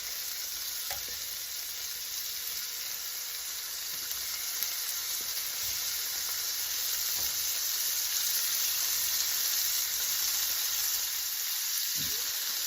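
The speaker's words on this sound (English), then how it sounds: "We're just going to sear them for like a minute on each side." Shrimp sear in foamy butter in a pan for gnocchi alla vodka, giving a bright, steady, close sizzle with a constant hiss and a few faint taps, no voices.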